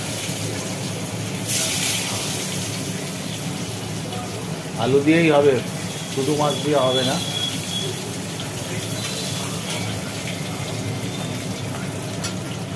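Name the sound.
cut potatoes frying in oil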